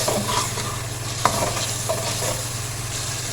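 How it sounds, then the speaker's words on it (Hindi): Spice masala frying in oil in a pan for dhaba-style fried chana dal: a steady close sizzle with a constant low hum beneath and one sharp tap partway through, with no voices. "अब हम मसाले को इतना भूनेंगे कि ये जो ऑयल है ना ये निकल आए"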